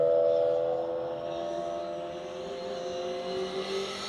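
Citroen C2 rally car at a circuit rally round, engine droning steadily through a long pass with faint whine, holding a fairly constant distance without sharp revs.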